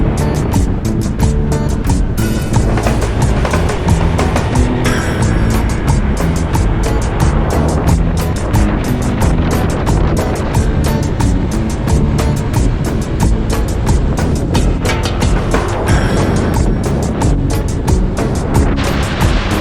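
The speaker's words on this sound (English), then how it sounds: "Go to Pran Buri with my lovely scooter." A scooter rides toward Pran Buri, Thailand, with a loud, continuous rush of wind buffeting and engine drone that stays unbroken throughout, and no voices come through.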